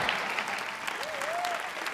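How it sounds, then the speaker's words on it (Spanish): A studio audience at a comedy roast battle applauds, a dense, sustained wash of clapping at moderate level, with a brief voice rising through it partway. "Un aplauso."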